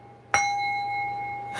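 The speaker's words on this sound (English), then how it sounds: "Somebody ringing their bell." A doorbell sounds a single clear chime, rather faint and ringing on with a long decay, and a second strike begins at the very end.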